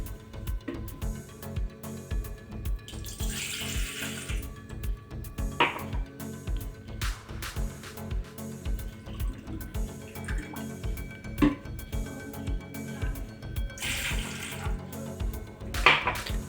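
Water is poured from a glass into a pot in a home kitchen before boiling, a steady trickling splash that runs for a while alone with no voices.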